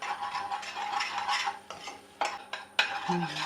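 Flour stirred and roasted in butter for a white sauce, a spoon scraping and clinking against the pan in a steady close rhythm, with a couple of sharper knocks near the end and a soft sizzle beneath.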